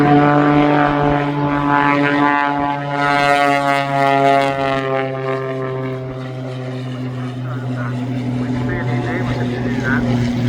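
Propeller aircraft flying at an airshow, a steady droning engine with a shifting pitch that passes at a moderate distance, heard under continuous commentary.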